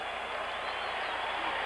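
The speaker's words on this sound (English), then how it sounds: "Listen to the crowd." Dense roar of an arena crowd cheering at a 1977 NBA Finals game, Sixers at Portland, a steady, loud wash of noise with no pauses.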